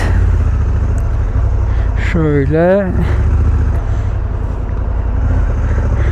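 A Honda motorcycle with a DCT automatic gearbox rides through dense rush-hour Istanbul traffic, a steady engine drone with surrounding vehicle noise and a brief rising-and-falling whine midway, while a rider briefly speaks.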